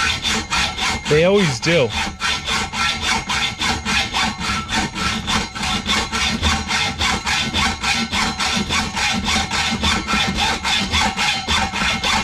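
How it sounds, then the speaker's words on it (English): A hacksaw saws back and forth through a large copper pipe in a steady, loud, rapid rhythm of rasping strokes close by, continuing throughout with a brief voice over it. "the hacksaw is going to get stuck any second now"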